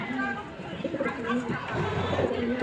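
Short-sized pigeons cooing softly in a loft, low throaty coos repeating close by under a background of murmuring voices.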